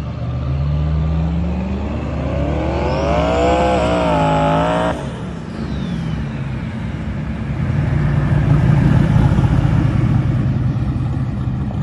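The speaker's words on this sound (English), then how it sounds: "driving up and down a little port throttle stuff, and then also laying into it," A Camaro street car at full throttle roars up through rising revs over several seconds, then shifts and keeps pulling as a loud, rough engine blast receding into the distance outdoors.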